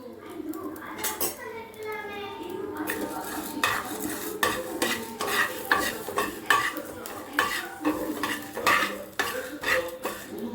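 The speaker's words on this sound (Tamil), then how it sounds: "வெந்தயம், கடுகு, உளுந்து வச்சுருக்கேன். இதை நம்ம வறுத்துக்கலாம்." Fenugreek, mustard seeds and urad dal dry roasting in a pan, with repeated scraping and clinking of a metal spoon stirring against the pan, a steady run of close, moderately loud strokes with a faint sizzle beneath.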